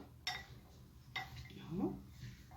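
Sliced potatoes coated with a spoonful of starch being stirred in a metal pan, a few sharp clinks and scrapes of a spoon against the pan with quiet kitchen noise between, and a brief voice in the background.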